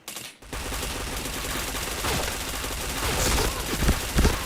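Rapid gunfire in a video game crackles in loud continuous bursts, with sharper shots standing out near the end over a dense wash of game noise.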